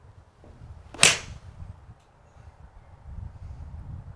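A single sharp, crisp click of a golf iron striking a ball, close and brief, over faint low outdoor rumble.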